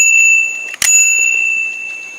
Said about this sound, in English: this is the bell, guys. This is gonna make sounds.